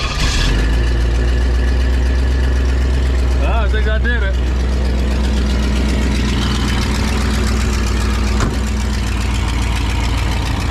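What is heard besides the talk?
1967 Pontiac Tempest station wagon engine running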